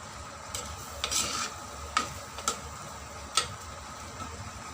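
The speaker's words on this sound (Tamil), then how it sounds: "நல்லா கொதிச்சிருச்சு, நல்லா மசாலாலாம் வேக ஆரம்பிச்சிட்டு" Masala for a Kerala-style sardine fry bubbles and sizzles in a pan, a faint, steady low simmer with a few soft clicks and ladle taps scattered throughout.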